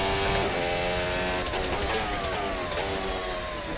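A Formula Hybrid 2022 F1 car engine in the racing game Assetto Corsa screams at high revs, pitch climbing through quick upshifts in seventh gear along a short straight, loud and continuous.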